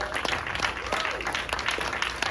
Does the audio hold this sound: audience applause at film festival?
yes